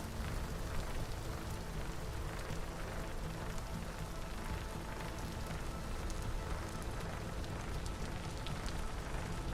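Rain falling in the video game Pennycress, a steady, dense hiss of drops pattering on surfaces, evenly sustained and fairly soft throughout.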